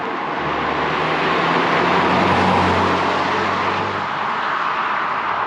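2023 Mini John Cooper Works with a manual gearbox drives around town, its engine a steady low hum under road and tyre noise from inside the cabin, with a brief rise in revs and no talk.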